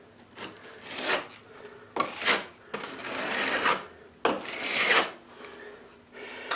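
Repeated scraping and rasping strokes fill a gap between old plaster and a wooden beam casing during an 18th-century plaster repair, coming in close bursts of a second or two with short pauses between.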